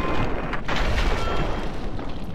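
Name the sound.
gunfire at roamers in the video game Fallout 3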